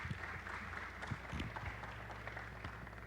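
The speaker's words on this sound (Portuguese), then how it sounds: "Uma salva de palmas para a Mônica, por favor." Faint applause from an audience at a fitness industry round-table event in Brazil, soft scattered clapping over a low steady hum, no one speaking.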